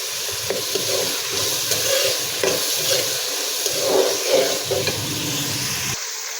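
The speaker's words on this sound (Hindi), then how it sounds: "मटर जो है ना वो बस मैंने हल्के से फ्राई करने हैं" Peas and onions fry lightly in oil for matar pulao, a soft continuous sizzle under frequent spoon stirs and scrapes against the pan, close and moderately quiet, ending abruptly.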